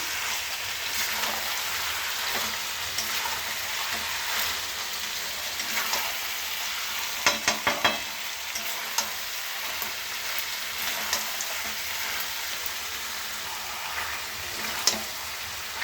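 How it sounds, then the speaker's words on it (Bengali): Chicken being sautéed and fish frying in a wok, with a steady, close sizzle and crackle running throughout and a few sharp spatters and stir clinks around the middle. "আর এইদিকে চিকেনটা কষা হচ্ছে"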